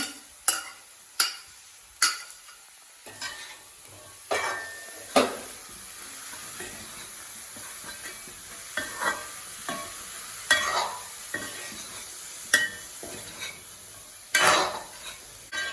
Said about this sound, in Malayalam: അതിനുശേഷം ഈ വേവിച്ച് വെച്ചേക്കണ കടല ചേർത്തു.